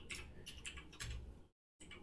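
Rapid clicking of computer keyboard keys while code is typed, close and clear in quick bursts, with a brief pause before the keystrokes resume.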